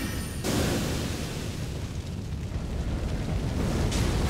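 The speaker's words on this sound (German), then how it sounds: "die Explosion hört einfach nicht auf" A dense, continuous rumbling roar of explosions comes from a lava magic spell in Elden Ring, booming loudly and without pause throughout.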